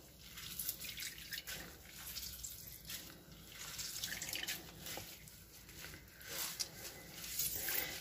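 Water drips and trickles from tofu and carrot being squeezed in a cloth, a soft, steady patter of small splashes heard faintly and close with no talk.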